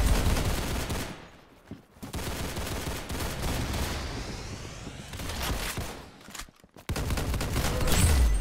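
Gunfire in a Roblox game comes as bursts of rapid shots crackling in dense volleys, broken by two short quiet gaps, then resuming loudly to the end.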